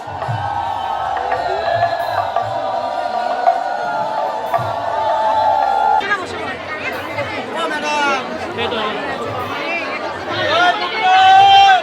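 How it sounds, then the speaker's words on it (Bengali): Devotees ululate in warbling, high-pitched bursts amid a dense, noisy crowd at the Gopinath Shraddha fair in Agradwip, with steady chatter throughout and the trilling growing stronger in the second half. "এই যে উলুর আওয়াজ"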